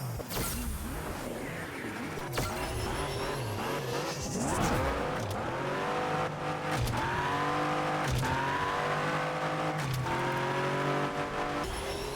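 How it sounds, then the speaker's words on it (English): LaFerrari engine in the Asphalt Legends racing game, before its update: a steady high-revving wail with repeated gear shifts and brief tire squeals, loud and continuous with no voices. "here is the LaFerrari. Once again, this is from before the update dropped"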